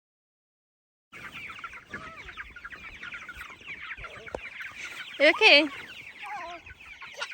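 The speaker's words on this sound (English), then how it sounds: "My chickens are all escaping because of that." Chickens escaping from a chicken tractor cluck and squawk in a busy, nearby chorus, with one louder burst of alarmed calls midway and a person speaking briefly.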